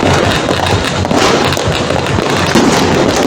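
Dense New Year fireworks crackle and boom continuously, loud and close, a constant barrage of bursts with no pause.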